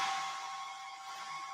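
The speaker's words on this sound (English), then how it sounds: "Hair dryer on low" A soft, steady airy hiss with a faint constant hum, a hair dryer on low setting blowing gently about 14 inches away, unbroken and without voices.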